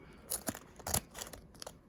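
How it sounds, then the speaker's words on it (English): A few quick scissor snips through a material roll on a slitting attachment, close and fairly quiet, with brief crisp cuts spaced irregularly. "just get a pair of scissors, cut right here"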